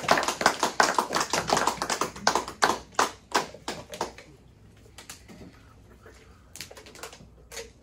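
Congregation clapping in applause at a church sermon, a dense burst of hand claps for about four seconds that thins to scattered claps and fades out.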